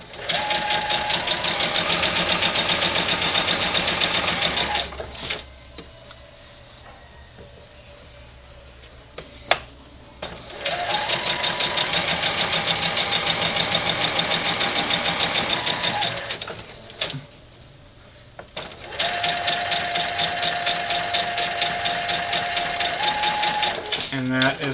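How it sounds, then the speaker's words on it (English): Sewing machine stitching a quilt border in three long runs separated by short pauses, steady and fairly loud nearby, with a person talking intermittently during the breaks. "Now I still have to sew it onto this side."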